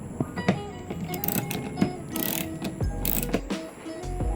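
A 10mm ratchet removing bolts from the rear light of a first-generation Toyota Innova, with close mechanical clicking and ratcheting in short bursts plus some low rumbling, no speech.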